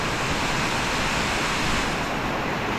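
Floodwater from Typhoon Egay rushes behind a farm in a loud, continuous roar, like heavy surf, with no break or talk.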